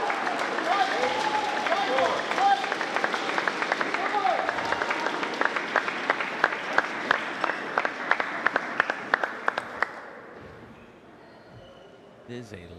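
Lively crowd applauding at a table tennis match at the Broward County Table Tennis Club in Hollywood, Florida: a dense burst of clapping from many hands that thins into scattered claps and fades out.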